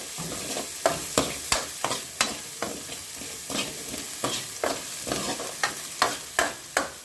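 Onions and tomatoes sauté in a pan for a mushroom pepper gravy, giving a steady sizzle broken by sharp scraping stirs of a spoon against the metal, close and regular, with nobody speaking.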